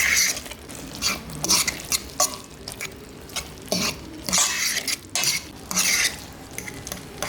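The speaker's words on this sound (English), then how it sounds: "So what I'm going to do, mix this up now." A spoon scrapes and clinks around a pot of ackee seasoned rice in irregular bursts, close and moderately loud, with a faint simmering sizzle underneath.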